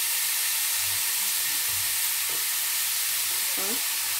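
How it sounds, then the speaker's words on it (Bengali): Cauliflower florets frying in hot oil, a dense, loud, continuous sizzle and hiss close up, with faint clinks and a brief voice in the background. "সেই তেলে আমি কপিগুলো দিয়ে দিচ্ছি, সাবধানে দিতে হবে।"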